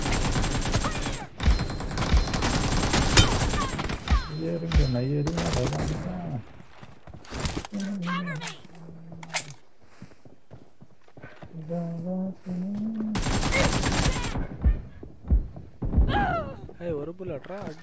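Gunfire in a shooting video game on the Livik map comes in sharp bursts and rapid volleys, mixed with hoof-like clatter and footsteps, while a voice talks between the shots.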